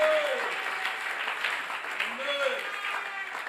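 Church congregation clapping and cheering for Jesus during a French sermon, a steady wash of applause with voices calling out over it, loud and continuous throughout.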